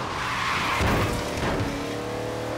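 Race car braking hard in Forza Horizon 3, with engine roar and tires squealing and skidding as the car slows, loud and close for a couple of seconds.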